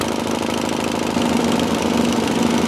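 Engine idling through newly installed replacement mufflers, a steady, moderately loud low rumble with an even putter that holds unchanged throughout, close by with no talking.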